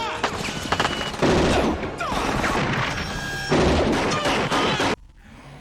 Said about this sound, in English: the Mag 60 has some reliable firepower for something that fits snugly in the palm of your hand